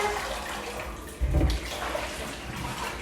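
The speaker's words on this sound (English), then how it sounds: "strain off the water," Water strained off and dumped from a bowl of washed root vegetables, a soft continuous wash of trickling water with a brief louder splash and pour midway, fairly close.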